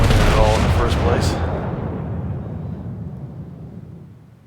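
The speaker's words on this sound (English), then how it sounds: "Firing long range on him" Heavy naval guns of the battleship Colorado fire in World of Warships, a loud booming broadside at the start that rolls out into a long rumbling decay, with no talk over it.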